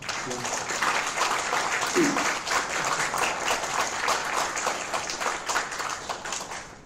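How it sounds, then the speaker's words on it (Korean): Audience applause at a Korean capital-markets seminar with National Assembly members, steady clapping spread across the room and continuing at a fairly even level throughout, with a brief voice near the start. "저희 한번 응원의 박수를 한 번 부탁드립니다"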